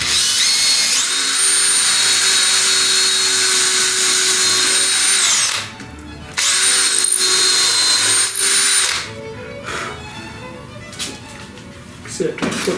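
A power drill whines steadily as it bores holes in a wooden sewing table elevator prototype, loud and close, cutting out briefly and starting again before clattering handling noises and workshop shuffling follow.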